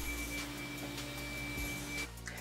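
A Xiaomi Mi Robot Vacuum-Mop with a newly replaced fan motor runs in turbo mode, giving a steady, loud motor whine with a thin high tone that cuts off near the end.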